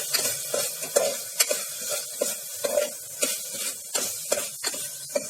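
A spoon stirs turnips and tomatoes through a pan of spicy dry sabzi, making repeated scraping knocks at an irregular rhythm over a light sizzle. The sound is close and there is no talking.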